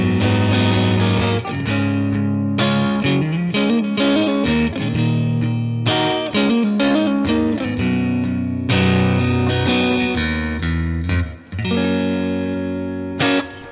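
Electric guitar played through a clean boost pedal with its pickup selector in position 4, loud sustained chords and picked notes ringing out close and continuous with no voices.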